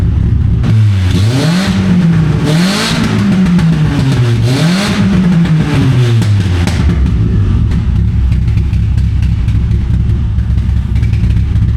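A Beretta Z26's Quad 4 engine revs up and down in several swells, then drops into a steady, low rumbling idle that carries on to the end.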